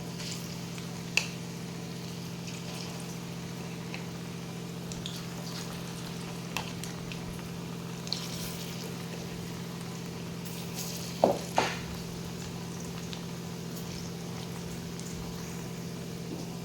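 A second batch of crispy coriander pakoras fries in oil over a medium gas flame, producing a steady, continuous sizzle with a few faint pops and clicks and no talking.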